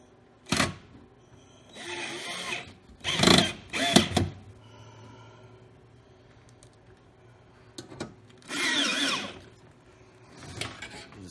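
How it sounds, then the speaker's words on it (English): A power drill drives screws to reassemble a blower fan kit for a Lopi, Avalon or Travis stove, heard in several short bursts of whirring with quiet pauses between them. "all we're going to do is screw it back together."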